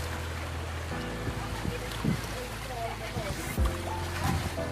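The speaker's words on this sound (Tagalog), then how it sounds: "medyo malakas ang alon mga kaibigan" Rough sea waves wash near a rocky island, a broad rushing noise mixed with a low boat engine drone and occasional splashes, while people talk throughout.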